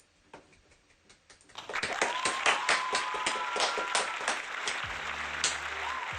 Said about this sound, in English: Let's do a quick round of applause.